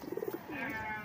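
A domestic pigeon coos during training: a short run of soft, pulsing low coos followed by a longer, wavering call, heard close and alone.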